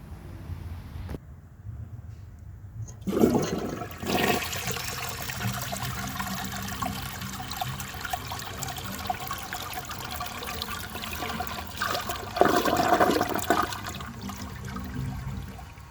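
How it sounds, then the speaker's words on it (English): A 1974 Borg Warner toilet with a leaky fill valve flushes nearby, a rushing swirl of water that runs steadily for several seconds and then continues trickling as the tank refills. "it seems to have a pretty good flush like this"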